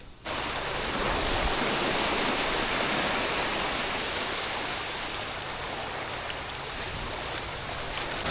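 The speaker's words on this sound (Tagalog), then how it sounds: "Wala ka ibang maririnig kundi yung alon." Sea waves at a grotto in Leyte make a steady, dense wash of surf that fills the air without pause, broad and fairly loud, with no voices.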